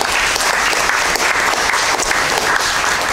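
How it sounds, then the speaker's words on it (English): Dense, continuous audience clapping at a school board meeting, steady and fairly loud for the whole stretch with no voices over it. "So we clap for that one too."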